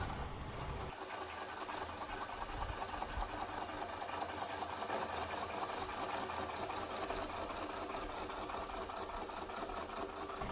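A lathe turns a birch burl, throwing shavings as the gouge cuts, giving a steady, dense mechanical whir with a rhythmic pulsing texture that holds unbroken throughout at moderate loudness, with no talk.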